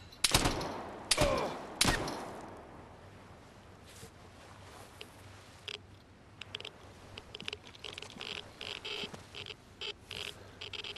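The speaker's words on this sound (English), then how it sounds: "He's there because he just shot me." Gunfire aimed at the player in the survival shooter Vigor, with several sharp loud shots bunched in the first two seconds, then quieter scattered pops and clicks over a low outdoor ambience.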